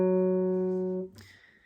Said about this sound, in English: It starts off with this opening kind of walk-up lick that comes in again throughout the rest of the song.